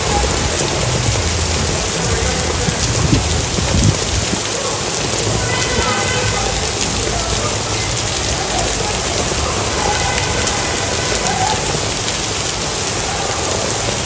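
Heavy rain pours steadily in a Rome street, a dense, continuous hiss with no letup; no clear thunder stands out over the wash of water.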